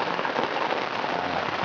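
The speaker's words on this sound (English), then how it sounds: "Raining all night." Steady rain falls on a beach campsite at night, a dense, even hiss of drops striking surfaces nearby, continuous and unbroken with no voices.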